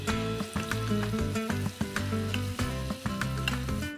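Baby zucchini fry in a pan with a steady, soft sizzle, partly masked by rhythmic background music with a pulsing bass line.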